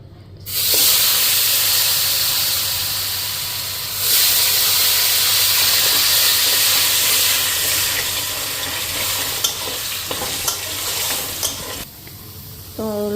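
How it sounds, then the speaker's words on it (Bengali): Potatoes dropped into hot oil burst into a loud, close hiss and sizzle that rises again partway through, then settles into a steady crackle with a few utensil clinks near the end. "প্রথমে আলুগুলি ফ্রাই করুন"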